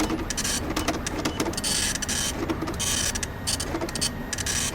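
A printer runs in the Five Nights at Freddy's 6 video game, giving a steady mechanical whirring with rhythmic, fairly quiet carriage sweeps and no talking.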